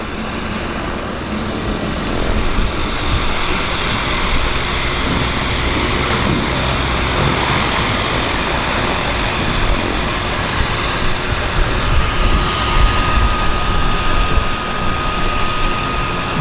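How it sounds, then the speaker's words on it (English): A PT6 turboprop Turbo Beaver floatplane taxis toward the dock in Vancouver's downtown harbour, its steady, loud engine drone running continuously throughout without talk. "here's our PT6 powered Turbo Beaver pulling into the dock"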